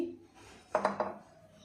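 Small mustard seeds tip into a blender jar with a brief clattering rattle of three close taps, fairly soft, followed by quiet room tone.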